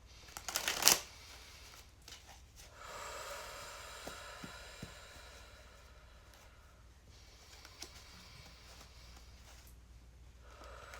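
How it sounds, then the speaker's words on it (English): A quick burst of card shuffling rattles up close near the start, then gives way to low, quiet background noise with faint scattered ticks. "Okay, I'm going to shuffle now"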